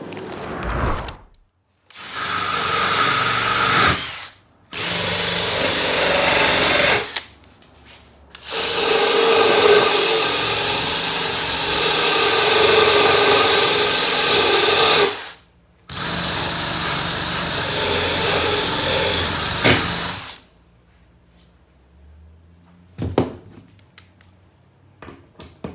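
A power wire wheel cleaning a vintage can opener bracket from an old Shasta camper, running in several long loud grinding bursts separated by short pauses, with clinks and handling noises at the end.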